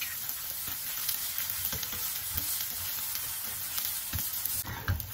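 An egg fries in a non-stick pan with a little oil, giving a steady close sizzle throughout with soft scraping and stirring touches and a brief louder crackle near the end.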